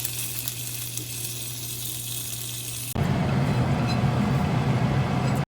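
Cumin seeds and green chilies hit hot oil in a pan and erupt into a loud, steady sizzle that cuts in abruptly midway after a lower, quieter hum, crackling continuously to the end.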